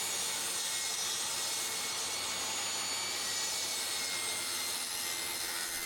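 A saw cuts pallet wood fed with push blocks, giving a continuous broad whirring roar that holds steady and fairly loud for the whole stretch, with no talk.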